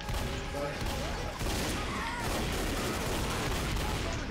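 Continuous gunfire roars while a Smoker is shot in Left 4 Dead, with dense overlapping shots and blasts at a steady, loud level throughout.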